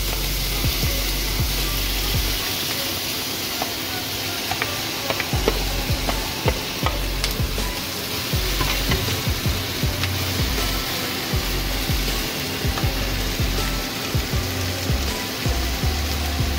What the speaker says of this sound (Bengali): এবার ম্যারিনেট করা পনিরগুলো হালকা করে ফ্রাই করে নেব।